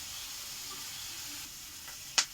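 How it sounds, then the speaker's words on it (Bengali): Fish roe frying in a pan with popped mustard seeds and green chillies gives a steady, faint sizzle, broken near the end by one sharp spitting crackle. "তারপরে এটা ভালো করে লাল লাল করে ভাজা হবে ডিমটা"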